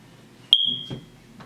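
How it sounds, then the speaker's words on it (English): A single sharp, high-pitched electronic chirp from a faulty smoke alarm cuts through a quiet college dorm room, followed by a faint shuffle. "Don't mind the beeping, that is the fire alarm that we have to fix."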